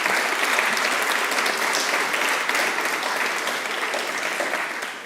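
An audience gives a warm round of applause for the Innovation Challenge helpers at a policy pitch event, full and continuous, fading slightly toward the end.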